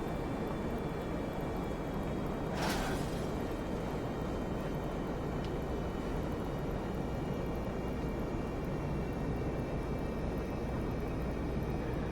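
A stolen jet fighter sits parked in GTA V Online, its engine giving off a steady, loud, broad roaring hum with a faint high whine, broken by one brief hissing burst early on.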